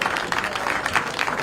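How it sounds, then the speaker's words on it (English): A brief burst of crowd applause follows a pool shot in a mixed-pairs match, a steady patter of clapping with a faint voice over it. "Big round of applause there."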